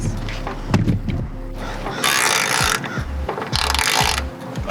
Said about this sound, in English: I'm gonna plug it in and wrench it loose.